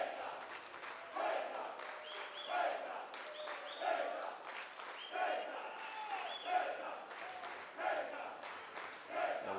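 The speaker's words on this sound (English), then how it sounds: "This crowd wants it." Baseball stadium crowd at a college game between UNF and Florida State, cheering and shouting in steady rising swells with late-inning tension, heard amid a sports broadcast.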